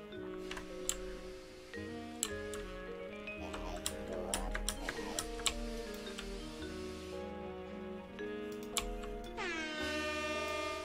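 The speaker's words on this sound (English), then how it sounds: "You got air horn!" A sustained, loud air horn sound effect from a video game blares for around eleven seconds, with sharp ticking clicks scattered over it.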